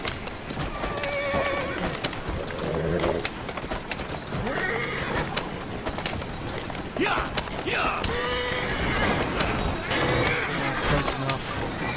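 Horse-drawn carriages racing through streets in Assassin's Creed Syndicate, with steady clattering hooves, wheel rumble and occasional whinnies forming a dense, continuous game soundscape throughout.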